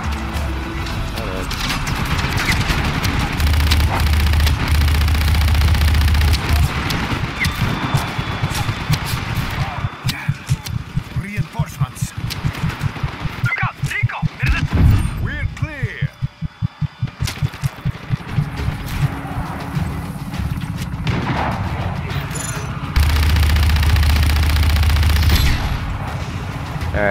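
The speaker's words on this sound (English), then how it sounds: "That is a tank." Gunfire and tank cannon fire in the video game Just Cause 3 make up a loud, sustained barrage of shots and booming blasts. A fast, rhythmic stretch of gunfire runs through the middle, and voices are heard now and then.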